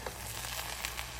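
An egg fries in a pot with a soft, steady sizzle and faint crackles, continuous and close, with no talking.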